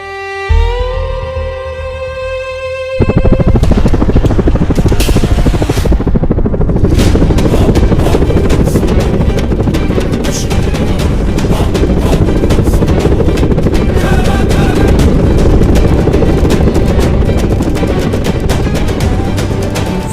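An air ambulance helicopter arrives with a loud, steady rotor and engine roar that starts abruptly after a few seconds of quieter sound and then continues close and dominant throughout.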